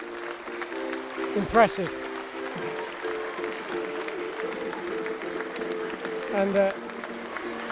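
Football crowd at a Jersey Bulls versus Milford and Witley women's match clapping steadily in the distance beneath a commentator talking over it.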